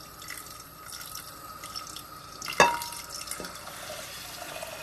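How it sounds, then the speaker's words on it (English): Fresh water poured over rice in a bowl for sushi rice, a steady running trickle with one louder splash midway, close and with no talking. "we're going to put fresh water in"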